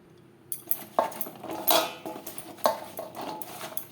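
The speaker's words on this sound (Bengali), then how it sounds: "লবণ হলুদ ও বেসন দিয়ে ভেন্ডি বেশ ভালো করে মেখে নেবেন" Okra being mixed by hand with salt, turmeric and gram flour in a dish for a vegetarian recipe, giving scattered clinks and scraping rattles of utensils against the bowl, close and moderately loud, with no talk.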